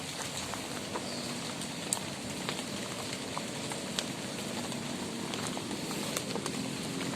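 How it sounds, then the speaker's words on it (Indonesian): Steady rain patters on a makeshift forest shelter near a graveyard, a dense continuous hiss with scattered sharper drips and taps, fairly close and alone without talk. "Masih hujan di sini."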